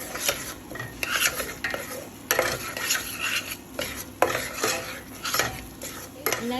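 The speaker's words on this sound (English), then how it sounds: "And then just give it a mix again to cook all the masala" A spoon stirs masala spice powders, coriander and garam masala, in a cooking pot for North Indian rajma, giving repeated scraping and clinking strokes against the metal with a faint sizzle beneath, close and steady.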